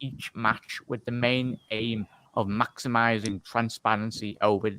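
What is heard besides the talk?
No everyday noise stands out behind the speech.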